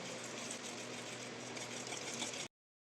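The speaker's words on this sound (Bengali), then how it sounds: "আমি এবার এই যে দুধটাকে এই গুঁড়োটার মধ্যে দিয়ে দিয়ে ভালো করে মিশিয়ে নেবো।" Warm milk poured into orange biscuit powder for a cake batter, a steady soft liquid rush, quiet and close, running continuously for about two and a half seconds before stopping abruptly.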